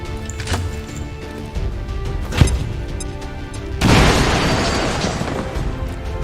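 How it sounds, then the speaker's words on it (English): A grenade blast in the game XCOM 2 booms with a sharp, heavy impact, followed by a loud, sustained crackling rush of debris and noise that carries to the end, with no voices heard. "Grenade him. Fire in the hole!"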